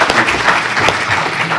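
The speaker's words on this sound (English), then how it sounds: "If we can get a round of applause for" Brief burst of audience applause at a panel discussion, dense close clapping filling the whole short moment.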